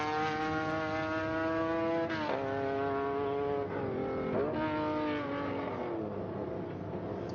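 Lancia Stratos rally car on a tarmac rally special stage, its engine roaring loudly and steadily through a left-right chicane, with sharp pitch drops at gear changes and on lifting, then climbing again.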